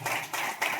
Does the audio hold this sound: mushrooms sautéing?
no